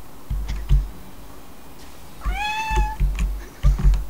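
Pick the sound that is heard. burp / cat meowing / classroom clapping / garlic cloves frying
cat meowing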